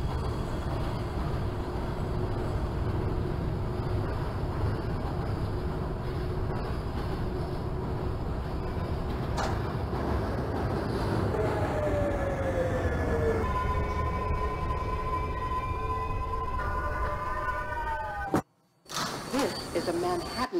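Manhattan-bound 2 subway train in the OpenBVE train simulator game, a continuous loud rumble of wheels and motors with rising whine tones as it moves, briefly cutting out near the end.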